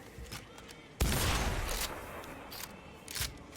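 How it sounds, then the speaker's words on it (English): A shotgun fires in Cyberpunk 2077, one loud blast that decays over about a second, followed by fainter mechanical clicks and a smaller thud. "Let's try a shotgun."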